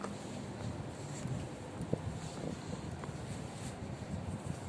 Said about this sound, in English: Okay, it's super windy here.